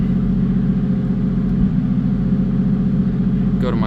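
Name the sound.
Toyota 1JZ engine in Nissan Silvia on dyno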